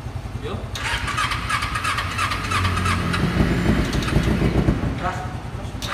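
A carbureted Kawasaki Ninja 250 with a Leovince exhaust is cranked by its starter, catches and rises into a loud, close, raspy idle and revving, while people talk nearby.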